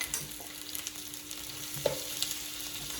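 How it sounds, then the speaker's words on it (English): Onions sautéing over medium heat in a pan for a Vietnamese salad, a quiet continuous sizzle with occasional scrapes and small clicks of stirring. "I'm going to saute my onions off"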